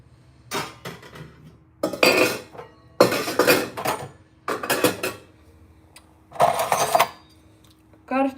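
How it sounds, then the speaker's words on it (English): Dishes being washed produce bursts of clattering plates, pots and cutlery, roughly six separate clinking bouts with quiet gaps between, close by. "I'm gonna wash the dishes first"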